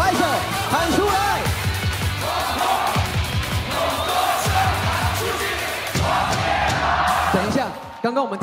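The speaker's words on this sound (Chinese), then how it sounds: "拍手，喊出来。" A packed stands crowd at a Taiwanese professional baseball game, CTBC versus Fubon, celebrates after the win. Loud, continuous massed shouting and chanting fills the whole stretch, with rhythmic cheers rising and falling over steady crowd roar.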